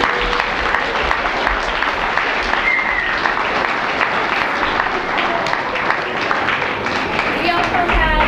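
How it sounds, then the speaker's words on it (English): A preschool assembly audience applauds, a dense, loud, sustained wash of clapping hands filling the room from start to finish, with voices mixed in among the crowd. "let's have another round of applause"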